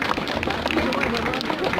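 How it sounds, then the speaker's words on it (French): An audience applauds a model walking in a Lolita fashion show at the Arras Matsuri, with dense, steady clapping and crowd noise filling the brief moment. "Vous pouvez l'applaudir, s'il vous plaît?"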